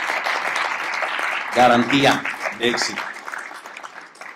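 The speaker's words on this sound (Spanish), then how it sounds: "yo pido un aplauso también para Gladys Butanda." Audience applause at an IMSS office relocation event in Michoacán, a broad crackle of clapping that runs throughout beneath someone speaking Spanish, swelling briefly in the middle.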